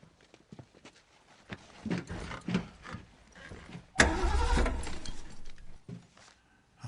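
A car engine with a drained battery cranks in irregular, sputtering bursts, then a louder, sustained broadband roar follows, with no talk over it.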